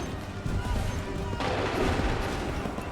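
Gunfire volley in Assassin's Creed Rogue, a dense burst of musket shots and booming blasts rolling together at moderate loudness, with voices underneath.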